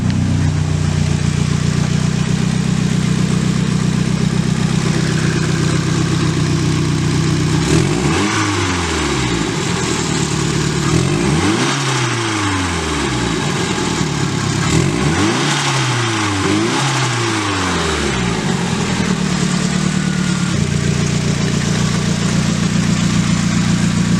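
A Nissan 240SX with a turbocharged SR20DET engine idles loudly up close with a steady low rumble, then takes several quick throttle blips whose revs rise and fall, before settling back to a smooth idle.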